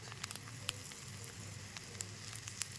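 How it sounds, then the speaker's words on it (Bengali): Whole cumin seeds and bay leaves dropped into hot oil for a Bengali mutton curry, a soft steady sizzle with scattered tiny pops and crackles, faint and close, no talking. "দেখো তেলটা গরম হয়ে গিয়েছে, তেলের মধ্যে দিয়ে দিচ্ছি গোটা জিরে, তেজপাত"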